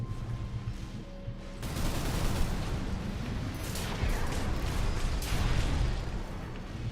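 Cannon and missile fire in the mech combat game Armored Core VI, a dense, continuous barrage of blasts and impacts that thickens after the first second and stays loud throughout.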